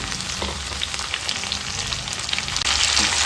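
Tomato frying in oil for an egg gravy, a continuous close sizzle and crackle with faint stirring, no talking.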